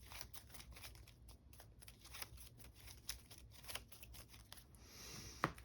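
A deck of cards for a GI Joe deck-building game is shuffled by hand, giving a quiet, close run of repeated riffling flicks and soft shuffles with a sharper snap near the end, no talking.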